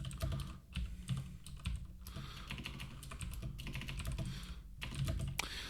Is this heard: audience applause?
no